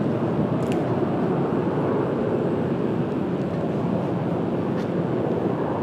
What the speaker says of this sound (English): I'm watching for our 777 to break through the clouds here